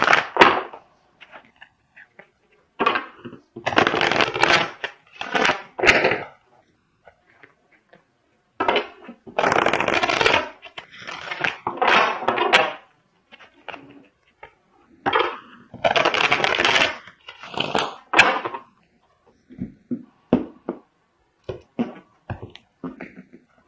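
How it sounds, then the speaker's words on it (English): Tarot cards being pulled, shuffled and handled during a reading, a series of crisp papery riffles and slaps in short bursts separated by quiet gaps, close and fairly loud. "I'm going to pull another clarifying card for this last card for you."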